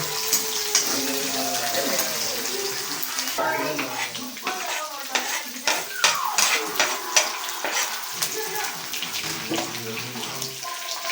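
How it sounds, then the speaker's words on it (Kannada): Something frying in a pan crackles and sizzles in an uneven, close spatter, heard beneath people talking over it. "ಇವಾಗ ಅಂತಿದೆ ನೋಡಿ, ಚಟಪಟ ಚಟಪಟ."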